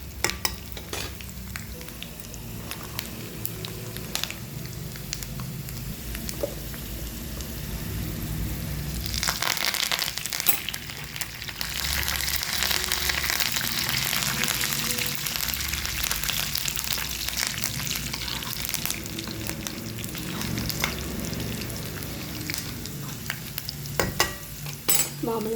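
Tempering with peanuts and green chillies being stirred into tamarind rice (pulihora) in a pan, continuous scraping and stirring over a soft sizzle, louder through the middle stretch; no talking.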